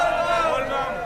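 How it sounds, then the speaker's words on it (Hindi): A crowd of devotees at a Shiva temple on a Sawan Monday chants Bam Bam Bhole together, a loud, steady wash of voices in unison with busy crowd noise around it. "बम बम बोले के नारे भी आप सुन सकते हैं।"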